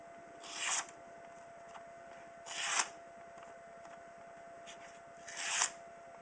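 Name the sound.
balisong knife cutting a piece of paper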